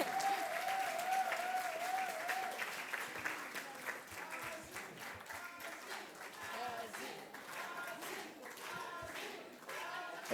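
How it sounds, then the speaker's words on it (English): Audience at an anniversary gala celebration applauds steadily for the full stretch, dense sustained clapping with a short tonal sound early on and a few voices underneath. "Keep the round of applause going."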